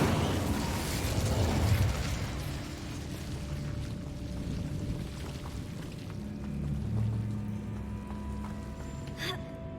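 Incendio fire spell cast in Hogwarts Legacy, a loud whooshing burst with mechanical clatter that swells early, then settles into a sustained roaring rumble with a bright flare near the end.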